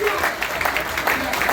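A church congregation clapping during a Sunday service, brief and fairly loud, mixed with voices and a crowded room ambience.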